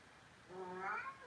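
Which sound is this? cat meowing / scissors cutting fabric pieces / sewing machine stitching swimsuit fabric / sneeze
cat meowing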